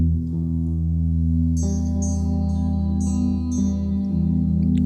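A clean electric guitar tone from a BIAS FX 2 Elite amp and effects preset rings out in sustained arpeggiated chords with echo and reverb, loud and close, with no voices.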